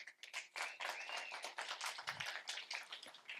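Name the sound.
applause for team B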